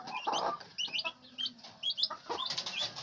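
A hen guarding turkey poults clucks in short, close bursts, soft and repeated, with a few higher peeps mixed in and no talking.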